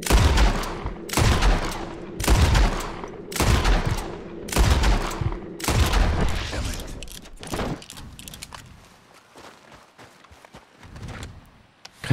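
Gunfire in the western game Red Dead Redemption 2: a rapid string of loud, close shots fired about every half second with sharp cracks and heavy low thumps, then tapering into scattered quieter shots and mechanical clicks.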